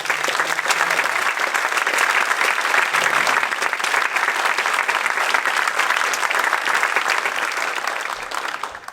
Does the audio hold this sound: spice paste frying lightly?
no